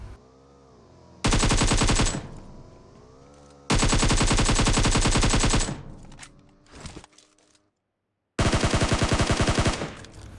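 Video game gunfire, loud bursts of rapid automatic shots in three separate strings with short gaps between them, close and without talking.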